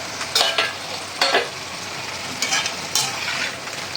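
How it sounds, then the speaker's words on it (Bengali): Potato french fries frying in hot oil until light golden, with a steady broadband sizzle and a few louder bursts where the fries are stirred or moved, heard alone without talk. "হালকা গোল্ডেন ফ্রাই হয়ে গেছে, আলুগুলো ভাজা হয়ে গেছে, ফ্রেঞ্চ ফ্রাই।"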